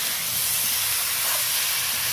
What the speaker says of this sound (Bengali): ফুলকপি আর আলুগুলো দিয়ে মশলার সাথে বেশ ভালো করে কষিয়ে নিচ্ছি।